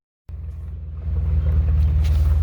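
Low rumbling drone from a car driveshaft hanging down underneath the vehicle, starting abruptly and growing louder, with a rhythmic throbbing pulse in the rumble.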